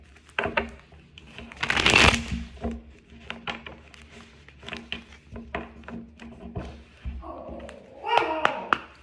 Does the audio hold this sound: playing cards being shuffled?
yes